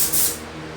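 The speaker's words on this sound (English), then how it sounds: "What I'm doing is I'm spraying the primer on just to speed things up" A paint sprayer spraying primer onto drywall: a brief burst of high, airy spray hiss at the start, fading into a quieter steady hiss with a low hum underneath.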